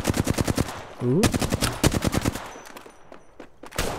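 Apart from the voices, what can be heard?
light machine gun fire in video game Apex Legends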